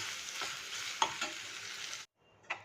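Mutton keema fries and is stirred in a pan, a close crackling sizzle broken by spoon scrapes, ending in a sudden pause and one last clatter.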